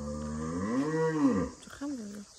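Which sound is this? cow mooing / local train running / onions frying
cow mooing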